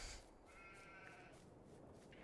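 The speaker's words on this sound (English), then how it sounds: "We officially have sheep on the farm." In the Farming Simulator 22 video game, a sheep on the farm lets out a single drawn-out bleat, faint and fairly distant over a soft, steady background hiss.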